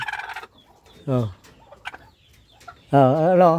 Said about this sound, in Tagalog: Ito yung ating tandang na medyo malaking lahi.